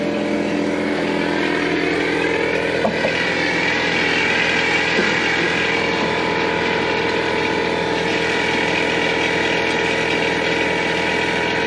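Water Genie pressure washer spraying a dirty condenser and screen on a Mahindra mPower 85p tractor, a steady loud hissing roar with a mechanical rattle running continuously and unchanged throughout.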